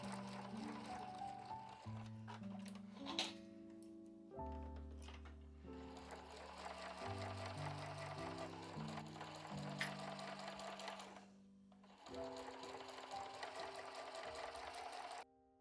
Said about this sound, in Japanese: そしたら表側と裏側このように合わせてミシンで縫います。